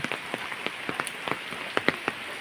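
Heavy rain falls in a steady, dense patter, with sharper individual drops splashing irregularly on a hard surface close by.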